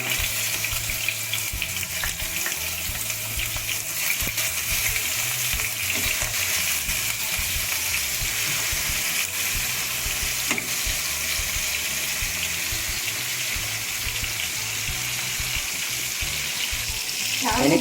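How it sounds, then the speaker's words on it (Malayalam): Pieces of Sravu fish fry in hot oil for a nadan-style Kerala fish fry, giving a steady, continuous sizzle and crackle that stays even throughout, close up with no talking. "എണ്ണ ചൂടായതിൻ്റെ ശേഷം മീൻ കഷ്ണങ്ങളിട്ട് പൊരിക്കുക."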